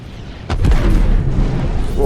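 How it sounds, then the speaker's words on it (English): An explosion in the space game Star Citizen, a sudden deep boom that swells and rumbles for over a second and a half, with a voice coming in near the end. "I heard that explosion as it went"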